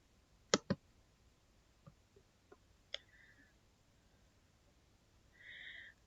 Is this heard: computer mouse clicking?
yes